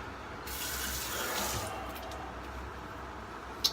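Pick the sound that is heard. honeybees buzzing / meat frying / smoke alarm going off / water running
water running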